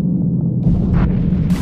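A grenade blast in the multiplayer game Subpen lands as a deep, rumbling boom with a low roar that lingers, followed by a brighter burst of debris noise near the end, no talk.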